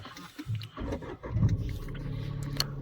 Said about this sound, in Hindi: गाड़ी में एक बार सेल्फ मारते हैं।